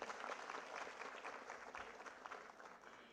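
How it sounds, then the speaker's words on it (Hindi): Steady applause from a ceremony audience at a Vande Mataram 150th anniversary event, a continuous wash of many hands clapping at moderate distance, fairly even in loudness across the whole stretch. "जी हाँ, तालियां बजती रहना चाहिए"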